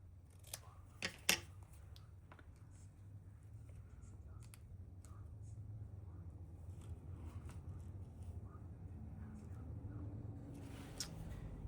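Scissors snipping paper during a craft session, a few sharp quick cuts near the start and again near the end over a low steady background hum, close by.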